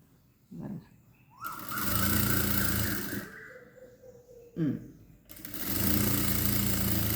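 A sewing machine stitches the folded hem of an A-line kurti in two loud whirring runs, each starting with a click and lasting a couple of seconds, with a pause between.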